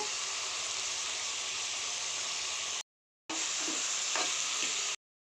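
Brinjal pieces sizzle and fry in a hot pan, a dense continuous hiss with brief scraping stirs, close and loud, broken by two short cuts to silence.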